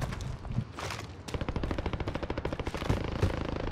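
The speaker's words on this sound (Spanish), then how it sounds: "A nuestra izquierda se escuchan muchos tiros," Rapid bursts of automatic gunfire rattle continuously in the video game Warzone, fairly close and loud, with a couple of heavier single shots mixed in.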